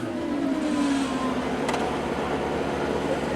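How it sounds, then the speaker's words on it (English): A 2002 Formula 3000 race car, stuck high-centered with a suspected broken gearbox at a Brazilian circuit, revs its engine in a sustained, droning roar heard from a distance, with one brief sharp sound partway through. "the engine revving"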